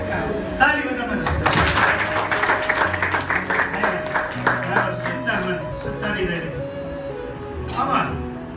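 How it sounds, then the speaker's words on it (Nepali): Applause breaks out at a Nepali Christian engagement ceremony, a sustained patter of clapping from the gathered guests lasting several seconds, mixed with voices and some background tones. "ताली बजाउनुहोस्।"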